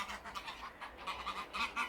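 Geese honk repeatedly while being fed, a run of uneven nasal calls arriving in bursts at moderate distance with no talking.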